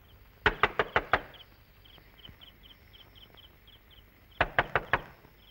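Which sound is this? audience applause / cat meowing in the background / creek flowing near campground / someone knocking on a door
someone knocking on a door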